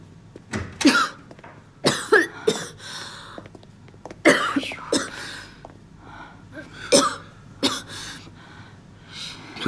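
A sick child with a fever coughs repeatedly at home, sharp hacking bursts with gasps and throat-clearing in between, close and fairly loud, coming in irregular clusters.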